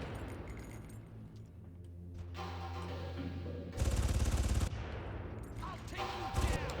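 Automatic gunfire in the Far Cry shooter game rattles in loud rapid bursts, with a dense clattering stretch in the middle and sharper shots near the end.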